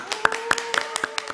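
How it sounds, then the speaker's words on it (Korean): A church congregation claps hands in a steady, even rhythm of sharp, close claps, several per second, briefly and alone. "자, 우리 박수 한번 할까요?"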